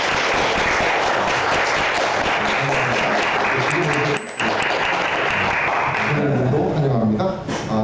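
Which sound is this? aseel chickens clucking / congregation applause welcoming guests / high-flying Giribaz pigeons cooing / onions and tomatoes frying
congregation applause welcoming guests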